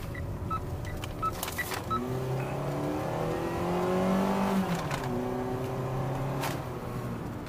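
A Mitsubishi Xpander Sport car driving, its engine humming and rising in pitch as it accelerates through gears, heard steadily from inside the cabin alongside some small clicks, with no speech.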